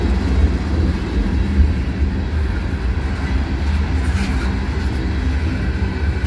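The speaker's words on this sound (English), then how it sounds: "the noise of the trains is drowning out the noise from the coolers" Loaded refrigerator railcars of a freight train rolling past, a steady low rumble and rattle of wheels on track holding constant throughout, near and loud with no voices.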